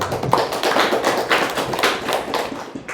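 Applause from the audience at an Indonesian book-review event, a dense, steady patter of many hands clapping at close range, fairly loud and continuous throughout.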